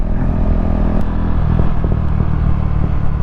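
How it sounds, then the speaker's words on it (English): A KTM Duke 390 motorcycle fitted with a new exhaust with no baffle rumbles loudly up close on a dusk ride, with a few sharp pops and crackles over the steady engine drone. "Oh, have you heard that popping?"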